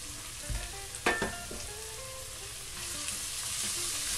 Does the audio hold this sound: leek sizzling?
yes